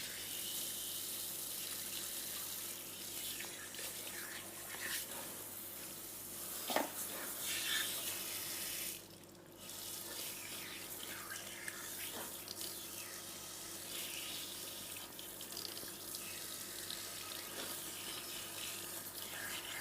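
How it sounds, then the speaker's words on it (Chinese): Water runs steadily from a salon tap while a man's hair is rinsed during a men's perm treatment, a soft continuous hiss with a brief dip partway through. "在冲水的时候，首先第一个，水压不能太大，水温不能太热。"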